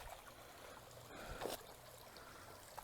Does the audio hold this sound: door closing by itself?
no